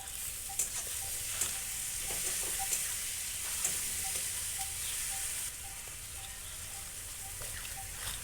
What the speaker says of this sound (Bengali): টমেটো কুচি দেওয়ার পর আরও কিছুক্ষণ ভালো করে নেড়ে নিলাম